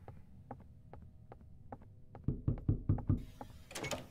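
Knocking on a door in the video game Doors, a series of faint, evenly spaced knocks that turn into a louder, quicker cluster of thumps before a brief noisy rustle at the end.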